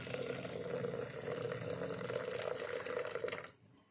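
Water pours steadily off cooked lentils into another vessel in a home kitchen, a continuous splashing trickle for about three and a half seconds that stops abruptly, leaving near silence.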